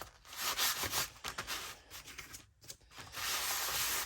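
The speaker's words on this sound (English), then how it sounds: "sandpaper to give it a little tooth." Sandpaper rubs back and forth over glossy junk mail paper, producing close, raspy scratching strokes in an irregular rhythm with short pauses, ending in a longer steady rub.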